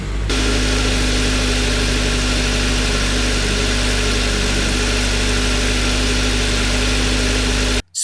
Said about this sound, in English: It's time to start the engine and let it warm up by idling.